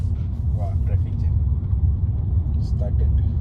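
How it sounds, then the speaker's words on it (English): Congested road traffic in Malaysia gives a constant low engine rumble of idling and creeping cars and buses, heard from inside a vehicle, with voices faintly present over the drone. "Wow, traffic jam."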